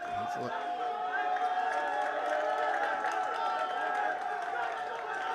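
A crowd at a boys high school soccer game makes sustained noise, a dense continuous murmur with cheering blended beneath voices.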